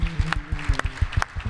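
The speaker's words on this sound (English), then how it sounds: "the biggest round of applause you can put together for Rabbi David Samson coming all the way from Jerusalem" An audience claps in welcome for Rabbi David Samson at a Memphis concert event, a brief burst of rhythmic, fairly close hand claps.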